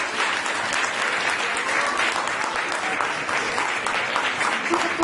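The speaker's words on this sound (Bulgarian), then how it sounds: "Доктор Ружа Игнатова се наслаждава на вашите аплодисменти." An audience applauds an award winner at a Business Woman of the Year 2014 ceremony, a steady, dense wash of clapping from a large crowd that holds evenly for the full stretch.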